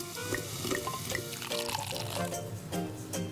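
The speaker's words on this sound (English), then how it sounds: "we pour it gently and carefully right into the pitcher" A pink grapefruit and thyme mixture is poured steadily into a pitcher, giving a continuous splashing, trickling pour close by with small clinks.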